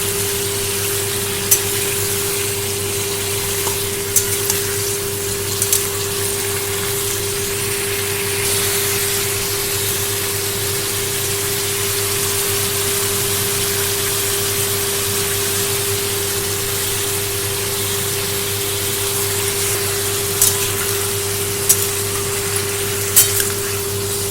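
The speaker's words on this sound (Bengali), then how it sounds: "এবারে সমস্ত সবজিগুলোকে তেলের মধ্যে মিশিয়ে লবণ হলুদ দিয়ে ভালো করে ভেজে নেব" Mixed vegetables fry in oil with salt and turmeric for a Bengali puishak chorchori with hilsa fish head, giving a steady, continuous sizzling hiss with a low background hum and occasional faint clicks, no voices.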